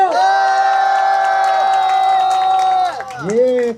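A crowd at a peace festival roars a long, loud sustained cheer in unison, many voices holding one shouted note, then breaking off into a few scattered whoops and calls.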